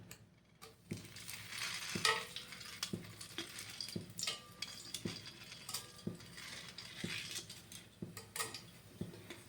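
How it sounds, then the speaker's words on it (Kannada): Tomato and onion hit hot oil for methi pulao, a soft sizzle punctuated by regular clinks and scrapes of a spoon against the pan, quiet and close, without speech. "ಬನ್ನಿ ಇವಾಗ ಹಾಕೋಣ. ಎಣ್ಣೆ ಕಾದಿದೆ."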